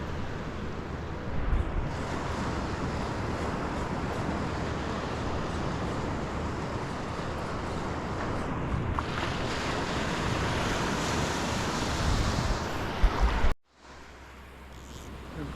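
Ocean waves wash continuously onto a Philippine shoreline used for shore casting, with gusting wind buffeting the microphone, a steady roar that cuts abruptly to quieter surf near the end.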